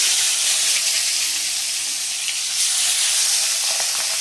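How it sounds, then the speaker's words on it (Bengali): Pabda fish sizzle loudly in hot oil in a pan, a steady, dense, close hiss of frying that holds unbroken throughout with no voices. "আর এখানে দেখো তেলটা খুব সুন্দর গরম হয়ে গেছে, এবার মাছগুলো আমি ছেড়ে দেবো"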